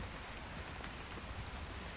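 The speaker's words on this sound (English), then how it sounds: "I bet you can hear the rain pitter-pattering as well." Rain pattering on leaves in wet woodland, a dense, even, steady hiss of drops, quiet but continuous, with no voices.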